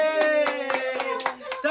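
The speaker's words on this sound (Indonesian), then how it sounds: "Tepuk tangan buat gosok." Rhythmic hand clapping for a game winner, about eight evenly spaced sharp claps over a sustained voice or hum.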